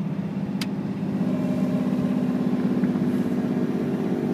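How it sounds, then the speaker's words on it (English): A 2000 Dodge Ram 2500 4x4 with a Cummins diesel and five-speed gearbox drives downhill and gathers speed, its engine droning with a low, steady, slightly rising hum heard from inside the cab. "We're speeding up."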